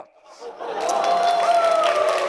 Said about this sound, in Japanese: 拍手の準備はいいですか？